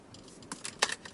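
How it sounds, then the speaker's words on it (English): Keys rattle faintly inside a Mazda CX-30 with a 2-liter naturally aspirated engine, a few light metallic jingles and clinks over a quiet cabin hum. "There's a rattling sound, probably by the keys."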